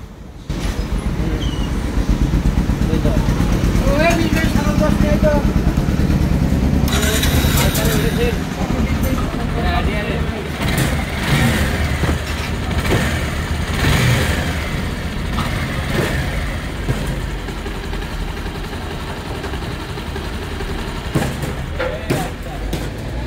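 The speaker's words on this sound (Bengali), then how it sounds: "তো আমরা এখন বাইকটা স্টার্ট করব।" A Pulsar DH3 motorcycle engine, just fixed after oil fouled its right-side spark plug, fires up and runs loud and steady with bursts of revving, while voices talk nearby.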